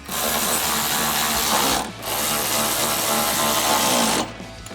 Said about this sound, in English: Go ahead and tighten that all down with the same tools, starting with a 13